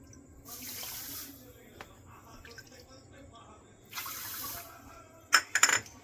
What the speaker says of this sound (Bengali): জল দেবো 2 বাটি।